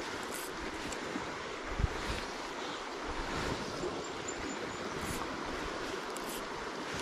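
Steady wind roars beside a river during trout fishing, a constant broad rush of moderate loudness with a brief thump near the middle and no talking.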